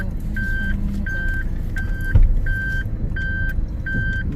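Steady reversing beeps from a vehicle backing up in a street in Jaffna, six evenly spaced tones over low engine rumble, with one brief louder thump partway through.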